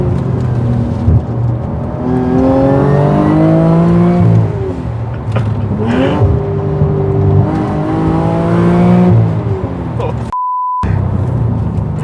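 A 600hp Mercedes MRA1900 race car revs hard through a run of quick gearshifts on its ZF gearbox, loud and close, pitch climbing and dropping with each change, a brief electronic warning beep near the end.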